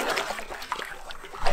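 Feet splash steadily through shallow water while someone wades across a silty desert river, a continuous close sloshing and spattering with a slightly louder splash at the end.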